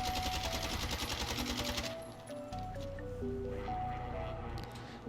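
Rapid AK-47 gunfire from the Warzone video game, a dense run of close shots for about two seconds that gives way to quieter game sounds and a few scattered tones.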